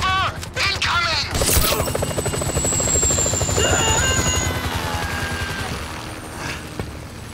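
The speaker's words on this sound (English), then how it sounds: "Can you hear that? Chopper! Incoming!" A helicopter approaches in Grand Theft Auto V, its rotor thudding loud and steady throughout, with sharp bursts at the start and a rising whine that slowly fades.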